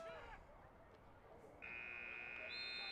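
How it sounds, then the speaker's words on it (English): End-of-half buzzer at a high school basketball game, a loud sustained electronic tone that starts sharply midway and holds to the end, over a gym crowd. "Gunner guns it at the buzzer, and it goes just wide"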